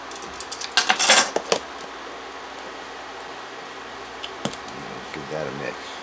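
A spoon scrapes and clinks against a bowl while mixing powder into freeze-dried apple pie grits, with a short burst of clattering near the start and a few fainter taps later, close by.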